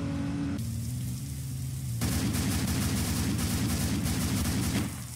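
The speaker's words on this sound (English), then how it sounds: "Mohammed's trying to shoot me" Rapid gunfire bursts in the police role-play game Emergency Response Liberty County, starting after a short quiet lead-in and continuing as loud, dense shooting for about three seconds before cutting off.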